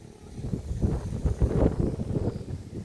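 Gusty mountain wind buffets the microphone with low rumbling bursts, steady and fairly close, with no voices.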